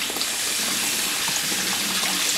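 Vegetables being washed under a running kitchen tap for bread and vegetable soup: a steady, loud, close gush of water splashing continuously without pause.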